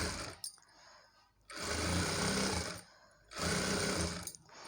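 A sewing machine stitches piping onto a blouse neckline in two loud sustained bursts of rapid mechanical rattling, separated by brief quieter pauses of handling.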